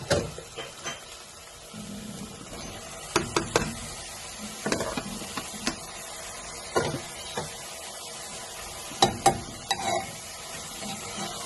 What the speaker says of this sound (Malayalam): ഇത് നന്നായി ഇളക്കി ചേർത്തെടുക്കാം.